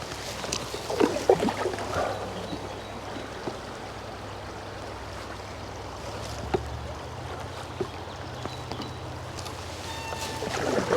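Loaded canoe running grade 1 river rapids on the River Balvaig near Strathyre: steady rushing and gurgling water with occasional splashes and paddle knocks, a continuous moderate wash throughout.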